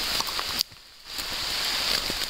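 Light rain falls outdoors on a hiking trail in the wild, making a steady, even hiss of patter close by that drops out briefly before it comes back. Nobody speaks.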